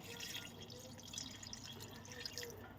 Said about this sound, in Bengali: একটু জল ঢেলে দেবো এবারে, যতটা পরিমাণ